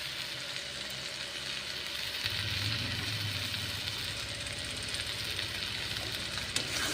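Chicken and new potatoes fry in a pan for a Bengali chicken aloo kosha, the masala cooked down until dry, giving a steady close sizzle with a rougher crackle midway and no talk.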